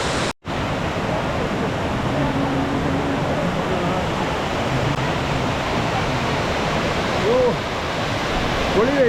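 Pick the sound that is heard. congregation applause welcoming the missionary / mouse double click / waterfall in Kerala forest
waterfall in Kerala forest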